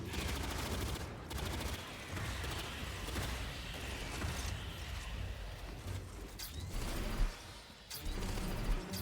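Sustained automatic gunfire blazes in the sci-fi shooter Aliens: Fireteam Elite 2 during a fight with xenomorphs, dense rapid bursts running nearly throughout with brief lulls and mechanical clanks, loud and close.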